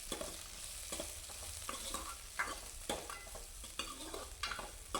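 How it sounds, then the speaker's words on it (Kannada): Onion, coriander leaves, curry leaves and green chillies fry in oil in a home kitchen. A steady low sizzle runs under scattered scrapes and clinks of stirring, with no talking. "ಈರುಳ್ಳಿ, ಕೊತ್ತಂಬರಿ ಸೊಪ್ಪು, ಕರಿಬೇವು, ಹಸಿಮೆಣ್ಸಿನ್ಕಾಯಿ ಇಷ್ಟನ್ನು ನಾನು ಎಣ್ಣೆಯಲ್ಲಿ ಹಾಕ್ಕೊಂಡು ಫ್ರೈ ಮಾಡ್ಕೊತಾ ಇದ್ದೀನಿ."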